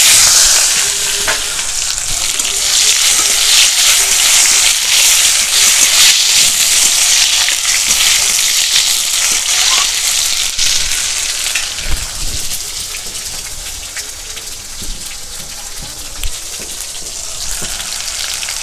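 Cumin seeds, bay leaves, chili and chopped tomato frying in hot oil for a vegetarian omelette curry, a loud, steady, close sizzle with occasional stirring clatters and no talk.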